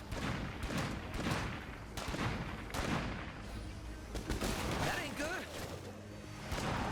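Sniper gunfire and other shots crack in the State of Decay 2 video game, rapid bursts packed closely together under a steady wash of game noise, with a voice talking over it.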